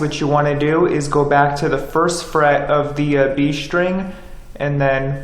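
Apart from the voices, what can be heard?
No everyday noise stands out behind the speech.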